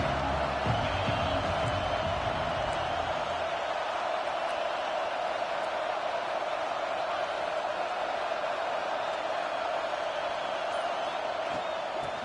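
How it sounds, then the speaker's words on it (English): Stadium crowd at a football game, a broad sustained roar of many voices with some cheering early on, loud and continuous, with a commentator talking over it. "This crowd ready to make its presence known."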